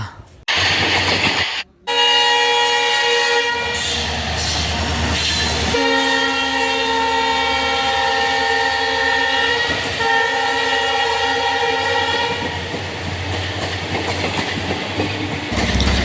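An intercity express train running from Jorhat to Shrirampur in Assam, with a loud, sustained horn blaring over the steady rumble and clatter of the wheels on rails; the horn breaks briefly near the start, then holds on, fading slightly toward the end.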